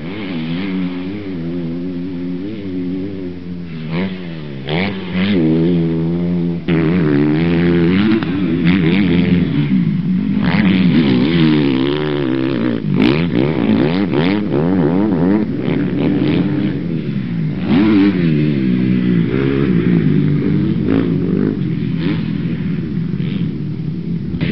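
A 2010 Honda CRF250R dirt bike engine revs up and down continuously while riding, loud and close, with rising and falling pitch as the throttle is worked and no talking.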